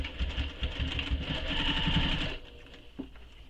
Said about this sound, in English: now I'm going to sew this gusset to the back using the seam allowance given in the pattern